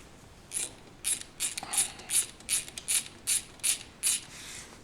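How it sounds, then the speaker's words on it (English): A ratchet clicks in a quick run of about a dozen sharp strokes while loosening a 10mm bolt on the brake reservoir bracket of a Suzuki DR650, close and crisp with no talk. "Now to access this, you've got to remove this 10mm here."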